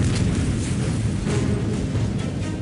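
Ignited fuel explodes aboard an oil tanker, a loud, sustained roaring blast with continuous rumbling boom and no pauses throughout.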